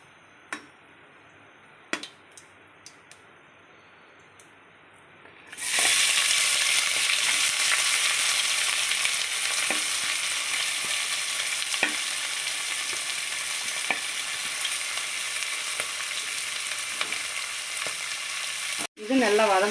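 Onion, green chillies and tomatoes sautéing in a pan: after a few quiet clicks, a loud steady frying sizzle bursts in and continues, with occasional spatula taps.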